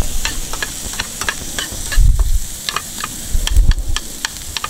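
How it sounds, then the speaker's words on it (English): Onions and lima beans sauté in a pan with a constant sizzle, broken by sharp spatula scrapes and a couple of heavier stirring thumps, close up and without talk. "Some lima beans. I'm just going to let that saute a little bit."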